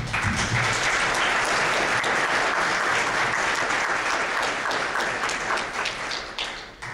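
Steady applause from a parliament session audience gathered in Fresno, dense and loud throughout, holding level for several seconds before thinning slightly near the end.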